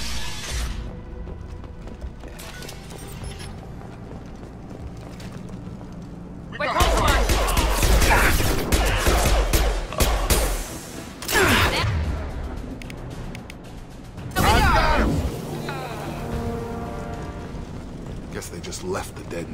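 In Mass Effect 2, Blue Suns mercenaries and Vorcha fight with bursts of crackling gunfire and crashing impacts that come in loud waves between quieter stretches, with speech heard in places.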